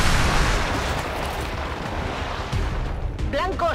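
Triple-shot gunfire in the video game XCOM 2: a dense, loud run of blasts and rumbling impacts rolls on continuously, with a voice briefly heard near the end.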